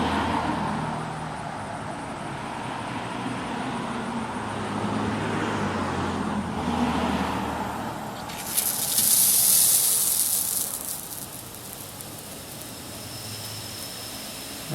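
Compressed air blowing out an inground sprinkler zone: a steady broad hissing rush that surges louder and brighter partway through as the valve opens fully, then settles to a continuous gush.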